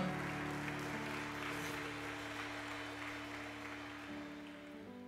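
Congregation clapping during a church service, a broad wash of applause beneath sustained organ or keyboard chords, steady in level across the whole stretch and fading slightly toward the end.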